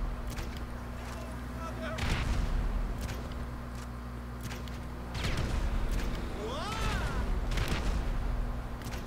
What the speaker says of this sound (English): Just shooting a grenade launcher.